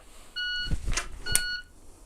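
Electronic shot timer giving a short high-pitched start beep during pistol draw practice, followed by a couple of sharp muffled impacts nearby.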